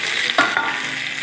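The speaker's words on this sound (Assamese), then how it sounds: "এতিয়া আমি মাংসখিনি ধুনীয়াকৈ কেৰাহীত দি দিম" Chicken pieces coated with turmeric, ginger and garlic sizzle loudly in a hot wok with frying onions, with a sharp stirring scrape near the middle of a short burst.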